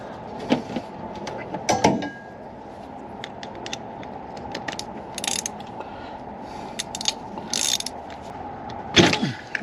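Socket ratchet working a spark plug loose on a 2000 Ford F-250 with the 5.4-liter engine: irregular clicks and creaks in short bursts, close and fairly quiet, with pauses between strokes.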